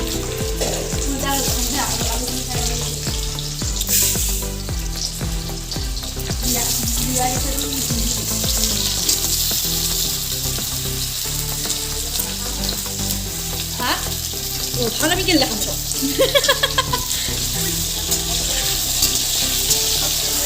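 Continuous crackling sizzle of potatoes frying in a hot pan, close and steady, with background music and a brief spoken remark over it.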